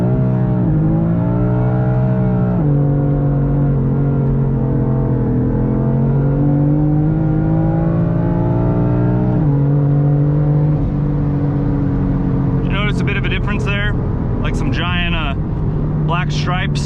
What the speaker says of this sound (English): This is what happens when you have traction control off and you floor it.